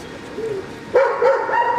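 A dog that is afraid of people, held by its collar, gives a couple of short, high, whining barks up close, the second louder than the first, with no talk over them.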